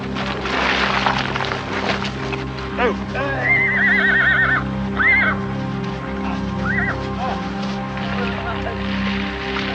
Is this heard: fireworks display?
no